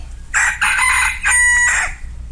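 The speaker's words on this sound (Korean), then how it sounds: "베드로의 말이 다 끝나기도 전에 닭이 울었습니다." A rooster crows in a single clear call, several loud rising and falling bursts over about a second and a half, close and alone against quiet background.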